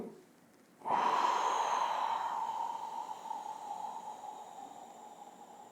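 One long, forceful exhale during exercise, a close rushing breath that bursts in suddenly after a brief quiet and slowly fades over several seconds, with no speech.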